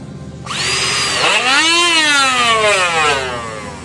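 A small homemade angle grinder powered by a 21 V battery whirs up, its motor pitch climbing and then sliding back down while it keeps running loudly, a bolt not fully tightened.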